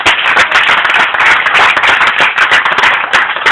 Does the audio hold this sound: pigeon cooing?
no